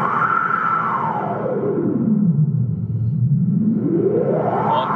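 Noise from an MS2600NG synthesizer runs through a filter swept by two LFOs, a continuous rushing hiss that rises and falls slowly like gusting wind, loud and steady with no voices.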